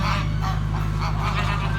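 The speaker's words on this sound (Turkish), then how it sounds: "Evet, kazlar etrafında dönüyor." A flock of geese honks loudly and repeatedly while circling, close and dense with overlapping calls.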